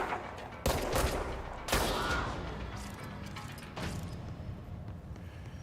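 Enemy gunfire in the game Control: several loud bursts of shots, each fading into a ragged tail, spaced over a few seconds with no talking.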